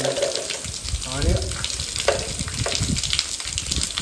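Water gushes down a small waterfall stream at a trek near caves in Karjat, a close, continuous hissing splash with occasional louder surges, and faint voices in the background.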